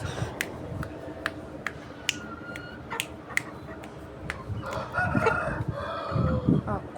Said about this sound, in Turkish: Korktu şu an horoz.